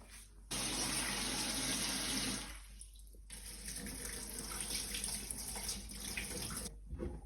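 Lentils and kidney beans for dal makhani being rinsed under a running kitchen tap, water gushing steadily into the bowl, briefly dropping off, then flowing again before cutting out.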